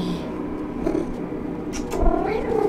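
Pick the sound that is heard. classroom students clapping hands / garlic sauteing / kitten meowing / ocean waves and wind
kitten meowing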